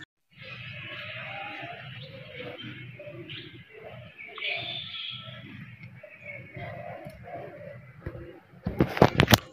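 Pigeons kept at a farmstead coo in a low, repeated throbbing rhythm that runs steadily for most of the stretch, ending in a few sharp handling knocks up close.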